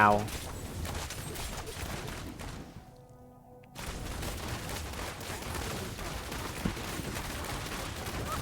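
Repeated bursts of bow and gun fire from an action role-playing game, Diablo Immortal, aimed at goblins, rattle on densely and continuously, with a short lull in the middle, over game music.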